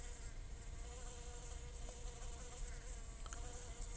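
A honeybee buzzes steadily and very close, its thin whine hovering right at the face for several seconds with no talking.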